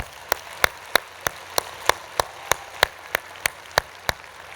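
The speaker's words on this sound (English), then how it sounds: "Let's give Andres a big round of applause." Conference audience applause, here heard as a sparse series of about a dozen sharp, evenly spaced single claps ringing out loudly over a quiet room with no talking.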